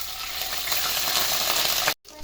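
Two garlic cloves frying in the same pan just used for browning meatballs give a loud, close, continuous sizzle that cuts out abruptly near the end, then resumes more softly.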